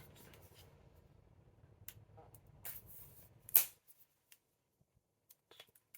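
Plastic wrap around a tarot guidebook and expansion pack crinkles and rustles as the package is opened, close and soft, ending in one sharp tear before near silence.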